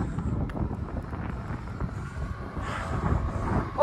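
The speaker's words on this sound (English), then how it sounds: "Bit windy." Wind buffeting the microphone at a choppy reservoir at Deer Creek State Park, a steady low rumble that swells slightly near the end, with no voices.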